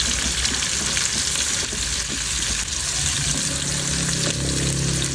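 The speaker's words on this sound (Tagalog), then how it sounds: "Pagkalagay ko nga nung sibuyas at kamatis, hahaluin lang natin to hanggang sa malanta nga yung kamatis" Onions and tomatoes sautéing in a pan for sinigang, a loud, dense sizzle with steady stirring and scraping, close up and without talk.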